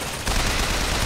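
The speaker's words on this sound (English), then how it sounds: "Summon the MG turret" A machine gun turret in Bioshock Infinite fires a dense, continuous burst of rapid gunfire, loud and close, filling the whole moment with no break.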